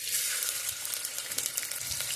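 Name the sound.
onion frying in oil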